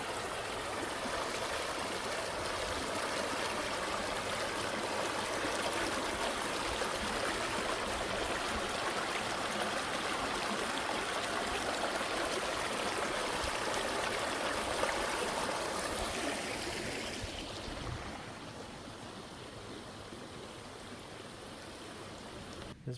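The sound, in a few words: small waterfall along a trail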